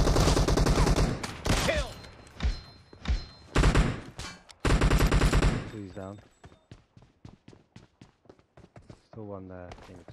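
Rapid bursts of gunfire in a PUBG Mobile deathmatch, with sharp repeated shots clustered in volleys early on, then sparser single cracks, under game announcer voice lines.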